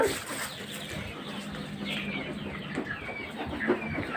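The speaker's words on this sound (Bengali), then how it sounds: "এগুলো হচ্ছে ফার্মি মুরগি মিশরীয় ফার্মি মুরগি" Soft, scattered clucking from a group of Egyptian Fayoumi chickens, faint and somewhat distant, over a steady low background noise.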